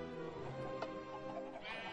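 Sheep in the video game Minecraft giving a single wavering bleat, quiet and slightly distant against a soft background.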